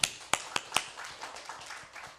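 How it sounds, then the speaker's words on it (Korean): Scattered handclaps ring out in a church, a few sharp, separate smacks early on followed by softer, sparser claps fading off, fairly quiet overall and with no speech. "하나님께 다시 한번 영광의 박수 올리겠습니다"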